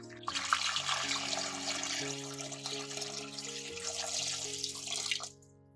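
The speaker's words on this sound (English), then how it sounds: "Then, pour water in." Water streams steadily from a tap, splashing and filling a large bowl of orange peels for several seconds before cutting off abruptly.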